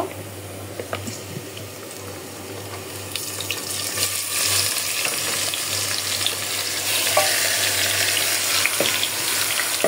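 Spice-rubbed beef tipped into a hot pan over fried onions, frying with a constant broad hiss and occasional clatter, close up and fairly even in loudness.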